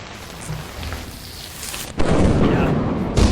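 Stormy weather in Lethal Company brings steady rain hissing, then a sudden loud thunderclap that rolls on with a second burst near the end.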